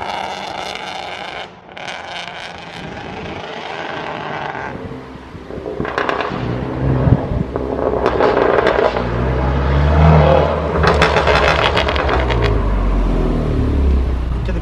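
A heavily modified, extremely loud Honda car engine draws closer, its deep rumble and rising revs swelling in volume as it nears, with sharp crackling bursts toward the end.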